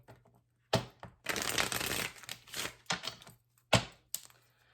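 Tarot cards being shuffled in several quick riffling bursts, close up, with short pauses between them and no talking.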